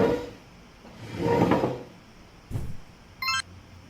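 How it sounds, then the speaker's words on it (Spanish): A chair is shifted around indoors, giving a few scraping, knocking thuds in separate bursts, close by, followed by a short clinking rattle. "Es una silla."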